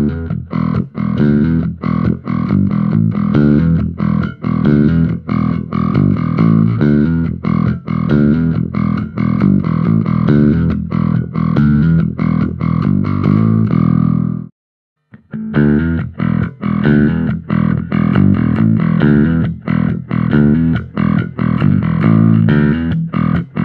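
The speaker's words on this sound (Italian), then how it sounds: "In questo caso aggiungo anche la seconda distorsione della testata, che è quella rossa ed è un po' più calda." Bass guitar played through a Darkglass DG210N 2x10 cabinet with the amp head's warm red distortion channel engaged, a loud, continuous riff with dense picked notes and one brief pause near the middle.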